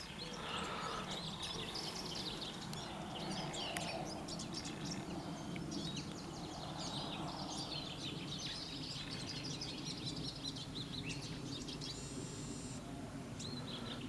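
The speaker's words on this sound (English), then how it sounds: "I think the birds are just so happy to be alive." Birds sing outdoors in spring, a scattered chorus of chirps and trills from several birds at a moderate distance over a soft, constant background hush.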